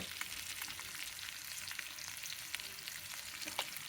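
Fish fries gently in a pan of hot oil, a soft, steady sizzle with small crackling pops throughout, heard alone and at low level.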